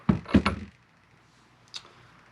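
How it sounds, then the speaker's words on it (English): The bolt of a Planet Eclipse Geo 3.5 paintball marker is pulled out the back after its latch is lifted, making a couple of quick close metallic clicks and a slide, then a faint later click. "Pulling the bolts out simple, you just lift up on the latch and it slides out the back."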